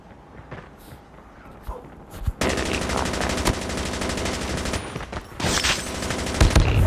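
Gunfire rattles through a multiplayer match of Call of Duty Mobile, starting with scattered faint shots before a dense, loud burst of rapid fire that continues to the end.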